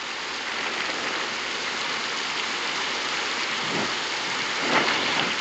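Steady rain pours down, a dense continuous hiss of drops on surfaces with no voices, holding an even level throughout.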